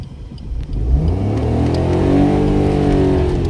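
A car engine revving during a driving lesson, climbing from a low idle rumble into a loud, sustained rising rev that holds steady and close, with no voices.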